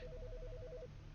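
A telephone in the video game Autopsy Simulator rings with a fast, warbling electronic trill, steady and fairly quiet over a low background hum, with no voices.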